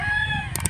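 A rooster crows at a chicken farm, a short, loud, drawn-out call heard close by, followed by a couple of quick clucks or clicks.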